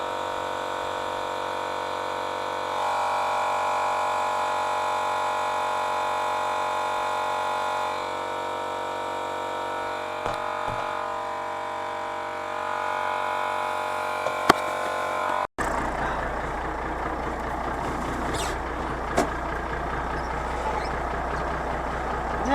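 Engine of an old machine for sale, running loud and steady with a revving rise, then a sudden change to rougher idle after a brief cut.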